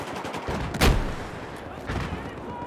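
A suppressed gun fires in the shooter game Battlefield 2042 with a few sharp, close shots, one louder burst near the start and a softer one later, over a continuous game background.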